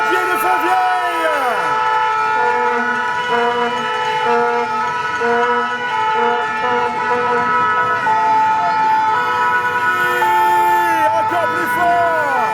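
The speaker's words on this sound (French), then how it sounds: "Voici les pompiers de Fontvieille." Fire engine sirens from the Fontvieille fire brigade in Monaco wail loudly and continuously, several overlapping tones rising and falling, with horns and a crowd's voices mixed in.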